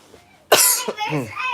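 One sharp, loud cough bursts out up close, followed right away by a voice speaking.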